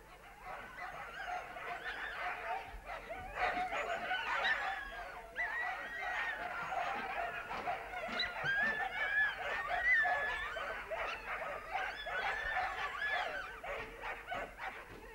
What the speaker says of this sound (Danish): Hundene kommer styrtende alle steder fra for at deltage i måltidet.